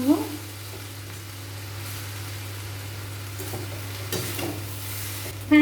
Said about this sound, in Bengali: এরপর নাড়াচাড়া করে নেব।